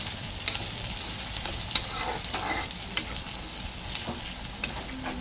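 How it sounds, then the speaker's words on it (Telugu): Onions frying in a pan for a red chicken curry give a steady, close sizzle, broken by a few sharp clicks of stirring; no one speaks. "సో ఆనియన్స్ ఇలా ఫ్రై చేసుకుంటున్నాం."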